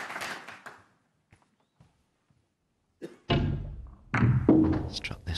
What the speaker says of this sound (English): Struck this one beautifully, Ronnie O'Sullivan.